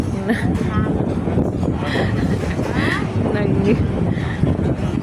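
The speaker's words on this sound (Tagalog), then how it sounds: "Sobrang hangin dito sa labas, mga sis." Steady, loud wind buffets the microphone outdoors, a constant rumbling roar with people talking underneath.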